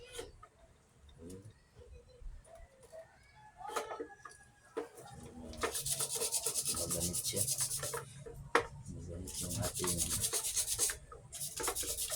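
Sandpaper rubbing against a rusty electric fan part, likely the shaft near the bearing, with intermittent bursts of close, harsh scraping strokes that grow louder and more continuous partway through.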